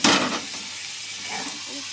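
Chili paste frying in a pan with potol and tomato, a soft steady hiss and sizzle that starts with a brief louder burst, then settles into a gentle continuous crackle.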